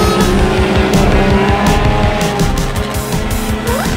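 Cartoon race cars, among them a blue tanker truck, roar off the starting line together, engines revving loudly with rapid repeated bursts and tires squealing near the end.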